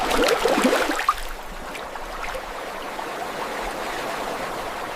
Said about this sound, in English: A gentle current carries the peaches, giving them their first thorough and refreshing wash